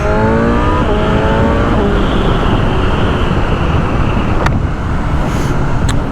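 BMW M1000R motorcycle engine revving hard and loud, with its pitch climbing steeply through quick successive rises and then holding a sustained high roar, alone without talk.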